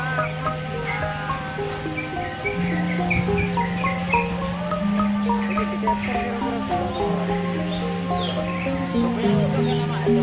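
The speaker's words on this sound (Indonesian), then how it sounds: "Ini saya kurang tahu burung apa namanya." Small birds at a bird market chirp and tweet in a busy, continuous chorus, with steady tonal droning and people talking nearby underneath.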